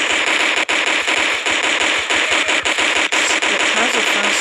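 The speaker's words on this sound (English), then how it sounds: "This is not a good gun." Rapid automatic gunfire from a weapon in a zombie video game, a dense, continuous stream of sharp shots with a few brief breaks, loud and close.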